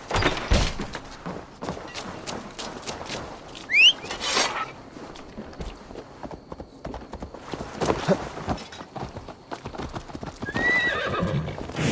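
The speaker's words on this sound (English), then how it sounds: "Basim, Eivor, to horse!" Rapid hoofbeats of a galloping horse in Assassin's Creed Valhalla, loud and close, with a couple of sharp whinnies cutting through the steady drumming rhythm.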